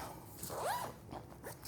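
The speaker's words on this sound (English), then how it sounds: "is this zipper at the back" A zipper on the back panel of a PGYTECH Roller camera backpack is drawn open in one continuous close pull, a bright rising and falling rasp lasting under a second.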